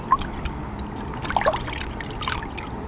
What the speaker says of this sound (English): So gently squeeze this foam filter.